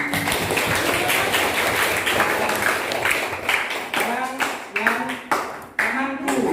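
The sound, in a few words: classroom clapping hands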